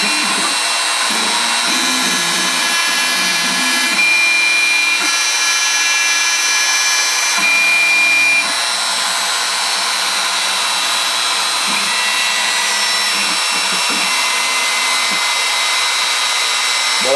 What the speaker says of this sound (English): So it's going to home the machine after it's done.